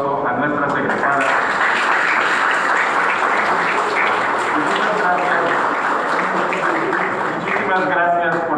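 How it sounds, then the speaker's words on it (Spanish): Applause for female graduates at a university vocational fair in Cancún, a dense, steady wash of clapping filling the whole stretch, loud and continuous with voices mixed in. "Démosle un fuerte aplauso a nuestras egresadas."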